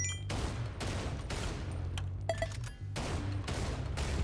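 Shotgun fired in Lost Ark combat, several loud blasts in a quick rhythmic series with short gaps between bursts, heavy and close amid game effects.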